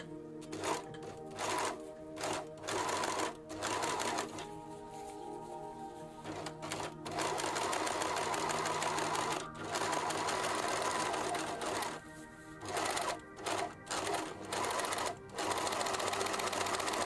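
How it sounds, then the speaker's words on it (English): A serger overcasts fabric edges in close, loud bursts of rapid stitching, with brief pauses between runs and a long continuous stretch near the end. "Be sure to make a long seam after you finish overcasting the edges of fabric."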